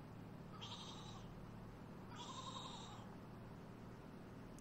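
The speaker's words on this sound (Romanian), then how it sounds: "Am o oaie, capră" Two sheep bleats in a Romanian driving video game (18 Roti De Otel, Pedal to the Metal), each about half a second long with a gap between, fairly faint over a steady low engine drone.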